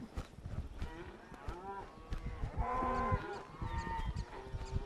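Cattle being herded up a hill trail low repeatedly, overlapping moos near and far against rustling outdoor background.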